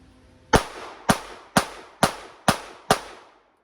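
Six sharp gunshots from a Gen 5 Glock 17 pistol fired during shooting drills, loud and close, spaced roughly half a second apart in a steady string with brief ringing decay after each.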